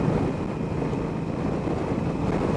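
An Indian Scout Sixty motorcycle from 2016 cruises at about 60 mph and 3100 rpm, and steady, loud wind roar buffets the microphone throughout. The engine sits mostly buried beneath the continuous rushing noise.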